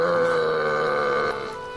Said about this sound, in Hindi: ये पेप्सी के बाद वाली डकारे तो नहीं मार रहा है